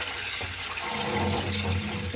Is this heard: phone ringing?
no